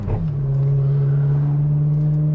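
A red Ferrari's engine is held at a steady, loud, droning pitch after a brief initial surge, heard up close outdoors with no talking over it.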